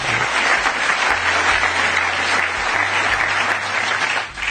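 Loud, steady audience applause, dense clapping from a large crowd that carries on throughout and dips slightly near the end.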